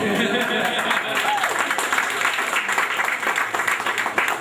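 An annual meeting audience breaks into sustained applause, a thick wash of many hands clapping at once, with voices and some chuckling mixed in underneath.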